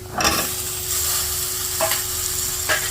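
Cut vegetables being stirred into a chicken stew over a medium flame: a steady sizzle with a few scraping strokes of a spoon against the pan.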